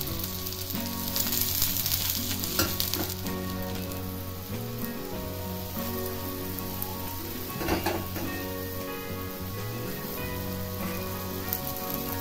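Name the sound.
thalipeeth flatbread roasting in pan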